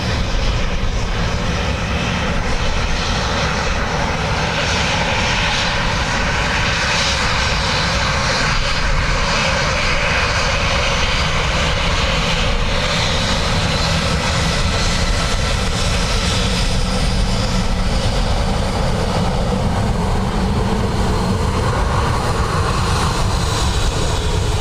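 A Ryanair airliner landing on runway 28 left at Dublin Airport in blustery wind, its engines giving a steady, loud roar that holds throughout with no voices.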